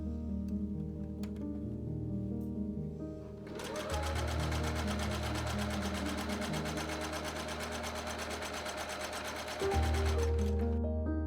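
Sewing machine stitching a small rolled hem on the peplum of a 1940s-style blouse, a fast rhythmic close whir that kicks in after a few seconds and runs steadily under soft background music.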